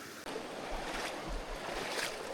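Rushing creek water along a hiking trail where the path is flooded and covered over, a steady broadband wash with some wind buffeting the microphone, no voices.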